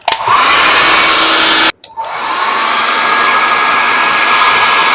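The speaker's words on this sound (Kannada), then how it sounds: "ನೀವು ನಾರ್ಮಲಿ ಡ್ರೈಯರ್ ಯೂಸ್ ಮಾಡ್ಕೋಬೋದು" A hair dryer blows loudly and steadily at close range on wet watercolor paper, cuts out briefly, then whirs back up to a constant roar.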